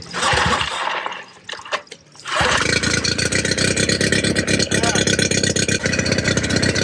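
An outboard boat motor runs steadily while fresh water is flushed through it to clear out salt water, starting after a brief splashy pause, with water sloshing and speech over the constant engine drone.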